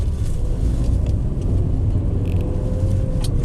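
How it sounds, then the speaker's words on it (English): A Proton Gen 2 LPG car pulling away and accelerating, its engine giving a steady low rumble heard from inside the cabin, with faint clicks over the drone. "Start it up, click straight over to gas, and just pull away."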